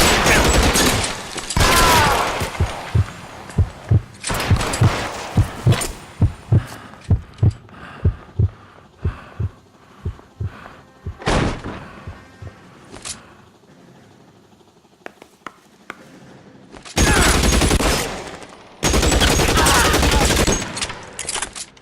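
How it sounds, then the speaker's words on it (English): Gunfire in a shootout in the L.A. Noire video game: rapid bursts of loud, close shots in a dense barrage, then scattered single shots with pauses, and two long roaring bursts near the end. "Shots fired."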